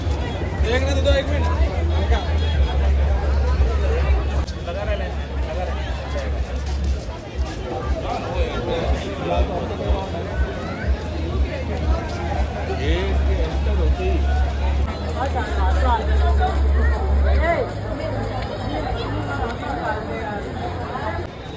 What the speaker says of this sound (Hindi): ये देखो मिर्ची मरड़ा में तो इतनी भीड़ है आज अशोक उद्यान में